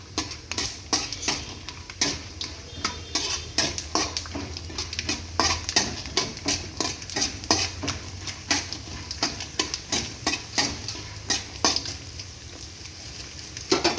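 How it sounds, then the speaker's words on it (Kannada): Ingredients for girmit mandakki fry in hot oil. A utensil stirs the pan with a steady run of scraping clatter over a soft sizzle, repeating close and fairly loud for the whole stretch. "ಚೇಂಜ್ ಆಗೋ ತನಕ ಅದನ್ನ ಫ್ರೈ ಮಾಡಬೇಕು ಎಣ್ಣೆ ಒಳಗೆ"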